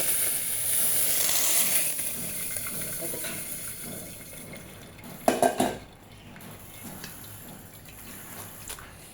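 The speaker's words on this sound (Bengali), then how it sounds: "আমার নুডলস সেদ্ধ হয়ে গেছে, এখন ছেঁকে নিচ্ছি।" Boiled noodles are poured into a strainer, with hissing steam and draining water giving way to a few loud clanks of a metal pot and utensils, close by, followed by quieter rustling.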